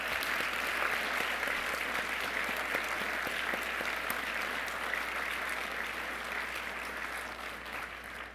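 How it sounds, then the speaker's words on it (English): Steady applause from an audience at a scholarship brunch keynote, a soft, distant wash of many hands clapping that tapers slightly toward the end. "I think he and Mary Ann both need another round of applause"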